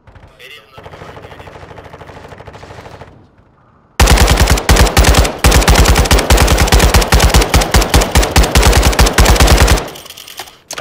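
Machine gun covering fire in a video game raid, with a loud sustained burst of rapid automatic shots lasting several seconds after quieter gunfire and talk.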